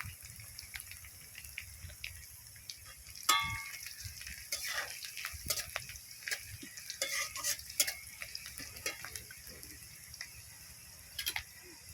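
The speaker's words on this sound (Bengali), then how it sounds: "হালকা বাদামি কালার করে শুধু জাস্ট পেঁয়াজটা ভেজে নেব।" Chopped onions fry in a pan and are stirred toward light brown for a fish curry: a steady sizzle runs throughout, broken by repeated scraping and sharp clangs of the spoon against the pan, close and moderately loud.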